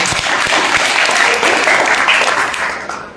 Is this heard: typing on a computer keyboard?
no